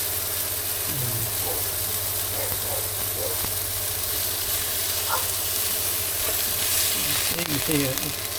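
Food sizzles on a Kings 2000W induction cooker, a steady frying hiss with occasional small pops and clinks over a constant low hum.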